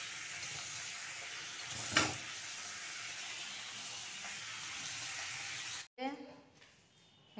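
Curry simmering in a pan gives off a steady, soft sizzling hiss. A brief clatter comes near the start, and the hiss cuts off abruptly near the end.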